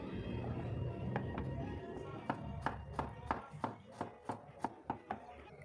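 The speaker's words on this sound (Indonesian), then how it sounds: "Separuhnya kita geprek seperti ini, lalu nanti separuhnya kita iris-iris" A knife chops garlic cloves on a cutting board in a home kitchen, a series of crisp, evenly spaced taps that speed up into a steady rhythm after a softer, quieter start.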